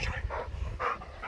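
A Rottweiler makes low, drawn-out vocal sounds close up, a few whining, moaning calls in quick succession.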